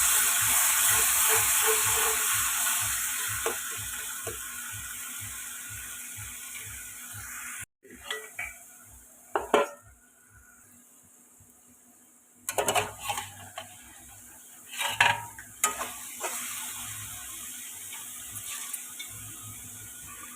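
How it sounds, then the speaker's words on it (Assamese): A ground garlic, ginger and onion paste for a bami fish curry fries in a pan, giving a steady loud hiss. The hiss then breaks into quieter sizzling with scattered clicks and scrapes of stirring. "সেইখিনি আকৌ অকণমান ৰঙচুৱাকৈ ফ্ৰাই কৰিম মই।"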